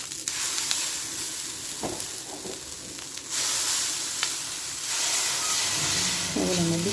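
Adai dosa fries on a hot pan, a steady close hiss and sizzle with brief scraping taps from a spatula and a faint murmur of speech at the end.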